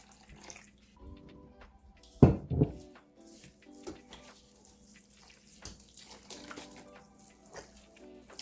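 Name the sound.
pouring liquid into grated sweet potato and mixing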